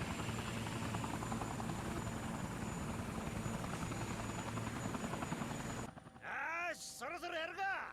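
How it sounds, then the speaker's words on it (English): A police helicopter in Yakuza 4, its rotor droning loud and steady, then the noise drops away into a few seconds of voices talking over the fading whir. "It's Date in his helicopter!"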